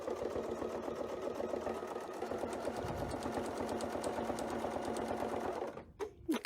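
A sewing machine stitching through a quilt runs steadily with a fast, even mechanical chatter for several seconds, close and clear, then stops abruptly near the end.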